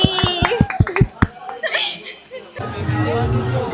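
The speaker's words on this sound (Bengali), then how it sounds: "কিন্তু হাততালি।" About eight quick, sharp hand claps close by, loud and evenly spaced, then chatter and a bit of laughter from a few people.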